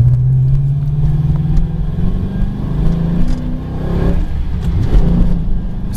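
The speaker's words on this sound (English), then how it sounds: "Got headers and Magnaflow exhaust system on it." A 2007 Ford Mustang with headers, a Magnaflow exhaust and a 5-speed manual gearbox rumbles up close in a deep, steady drone. Its pitch rises and falls as the revs change, and no one speaks.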